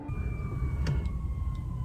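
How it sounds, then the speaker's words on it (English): A siren wails faintly in the distance over a steady low rumble, its tone rising and falling slowly. "Are those sirens?"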